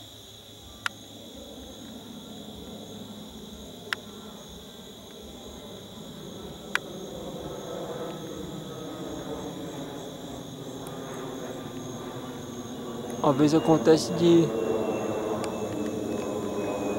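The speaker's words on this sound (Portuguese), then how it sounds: "Outro avião subindo aqui" A jet airplane's engine roars steadily in the distance as it climbs after takeoff, with crickets chirping throughout and a brief moment of speech.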